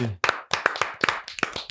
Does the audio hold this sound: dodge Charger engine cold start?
no